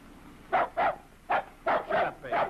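A dog called Baby barks six times in quick, uneven bursts, close and fairly loud against a quiet background.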